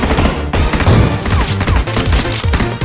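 Dense gunfire crackles in a PUBG Mobile match, rapid overlapping shots and bursts packed close together for the whole span, loud and continuous with no voices over it.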